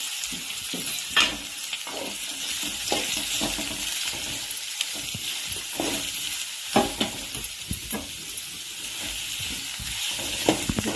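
Curry leaves and onions fry in hot oil with a loud, continuous hiss and crackle, while a spoon scrapes and knocks against the pan now and then.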